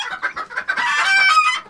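Jersey Giant chickens, mostly hens, cluck in a steady run of short calls that build into a dense, overlapping chorus from a close flock, with no talk over them.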